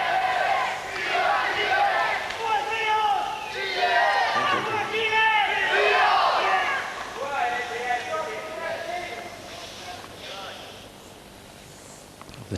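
Chilean fans in a tennis stadium roar and chant loudly during a 1997 Rios–Enqvist match, a dense rhythmic crowd din that swells and then fades, with a commentator talking over it.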